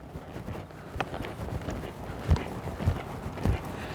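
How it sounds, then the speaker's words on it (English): Horse loping, soft rhythmic hoofbeats on ground with a few distinct thuds, moderately quiet and steady over a low background. "I want him to just quietly lope right out of his tracks."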